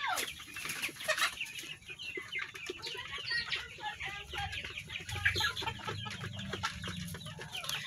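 Laying hens cluck steadily in a coop where birds settle for the night and one lays an egg; soft, close clucks and calls come in irregular bursts, fairly quiet, with no talk.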